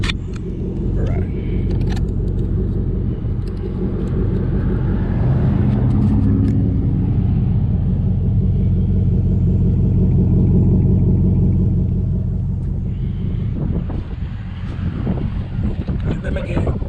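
A Jeep SRT8 with a Gibson 617405 cat-back exhaust rumbles loud and close in a steady, deep drone under wind noise, with a voice talking over it.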